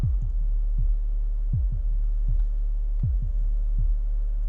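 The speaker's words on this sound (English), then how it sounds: "Let's try another heartbeat sound." A synthesized, deep, booming heartbeat from Audiority's Omnisphere bundle pulses in repeated double thumps at a steady slow rhythm over a low synthetic hum.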